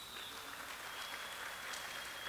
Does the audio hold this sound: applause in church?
yes